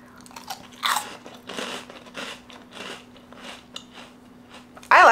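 A crunchy snack is bitten and chewed close to the mouth, with a series of crisp crunches and soft chewing spread over several seconds, ending in a loud sharp crunch; no talking.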